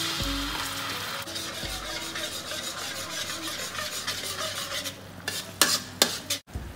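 Garlic and tomato paste stir-fried in a hot wok after frying fish for a mango sweet and sour dish: steady sizzling with repeated scraping strokes of a utensil, growing sharper and clattering near the end.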